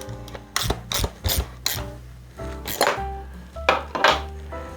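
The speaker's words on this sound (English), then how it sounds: "with our 13mm wrench, we're going to tighten it down" A 13mm wrench tightening the seat post binder clamp on an Electra Townie 7D step-through bicycle, heard as close, repeated metallic clicks and ratcheting scrapes in uneven short bursts.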